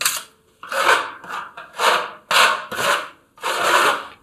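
A filling knife blade scrapes along a metal corner bead in about seven rhythmic, rasping strokes, each a close, loud swipe separated by brief pauses, with no talking.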